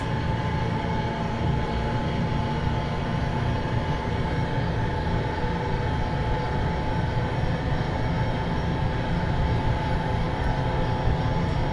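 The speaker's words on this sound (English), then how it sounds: "let's wait until the engine has stabilized" In a flight simulator, a Bell UH-1H Huey's turbine engine settles to a stable run, a continuous loud drone and whine with a heavy low-end rumble holding steady throughout, no voices.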